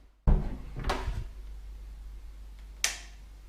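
A door in a holiday apartment on the Slovenian Adriatic coast opens with a sharp handle click and thud, then a muted creak, and a second louder latch knock near the end.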